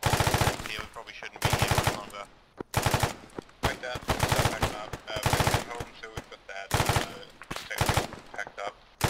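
Loud automatic weapon bursts in Arma 3, sharp clustered volleys separated by brief gaps, some shots ringing out alone, close and dominant throughout.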